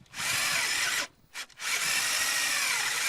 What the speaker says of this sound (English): If you drill it from both sides with the stepper bit